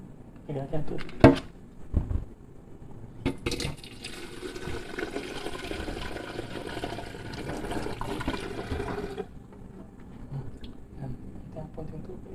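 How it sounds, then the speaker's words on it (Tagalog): Water splashes and gurgles steadily as it is poured into a new Scarlett stainless steel 2.0-liter electric kettle. A few clunks come first, then a sustained, fairly loud pour that stops abruptly, leaving only faint sounds. "Lagyan natin tubig."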